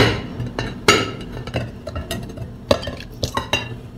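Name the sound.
dragon fruit pudding turned out onto a plate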